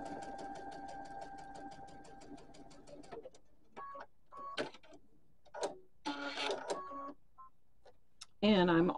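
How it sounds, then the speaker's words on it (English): A sewing machine stitches a quarter inch seam on a quilt block, a fast regular mechanical run of needle strikes for about three seconds, then scattered clicks and handling noises while someone talks. "we're going to sew a quarter inch seam allowance"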